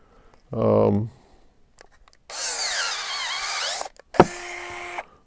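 Koham 10.8-volt cordless power pruning shears cutting a thick branch: a loud, close motor whine with rising and falling pitch lasting over a second, then a shorter whirring burst after a sharp snap, with a voice speaking briefly before.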